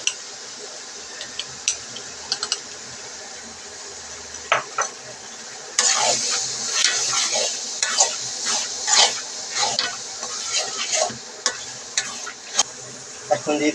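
Chili paste hits hot oil in a frying pan: a quiet, sparse stretch with a few clinks, then a sudden loud sizzle and hiss with a spoon scraping and stirring in irregular bursts.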